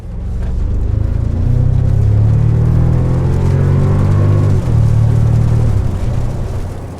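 A 2024 Toyota Tacoma TRD Pro pickup's iForce Max engine rumbles and revs steadily, loud and close, with pitch rising and dipping as the throttle changes.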